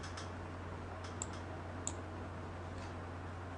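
A computer mouse gives two or three faint, sharp clicks during computer modeling work, spaced well apart over a low background hum.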